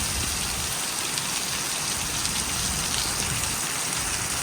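Steady, dense rain pours down onto surfaces, a constant hiss with no pauses.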